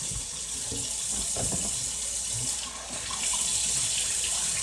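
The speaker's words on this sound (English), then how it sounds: "We're going to rinse it out one more time" Tap water runs steadily into a pot of rice being rinsed, a continuous close splashing gush with faint stirring and sloshing underneath.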